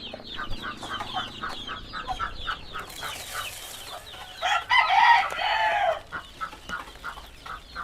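Chickens and chicks at a game farm, with a rooster crowing loudly near the middle over steady nearby clucking and peeping from the flock.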